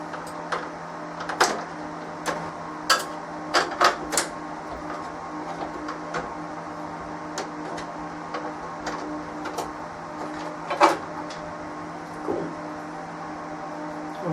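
Screws are removed while a Lexmark X646e multifunction printer is dismantled, with scattered sharp clicks and ticks of a screwdriver and plastic parts over a steady low hum.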